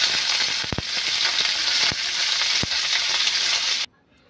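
Flat beans frying in hot oil in a pan, a steady loud sizzle with a few sharp clicks of stirring, cutting off abruptly near the end.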